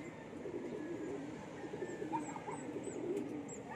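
Racing pigeons coo softly at a loft, a few low rolling calls rising over a steady outdoor background hum, fairly faint and without talk.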